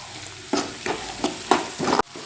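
Onions frying in a pan with turmeric powder added, a steady sizzle broken by four scraping stirs of a spoon at roughly even intervals, close and moderately loud with no talking.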